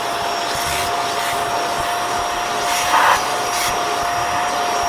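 A household vacuum cleaner runs steadily at close range, a loud continuous whine and rush of air with a slight swell near the middle and no voices.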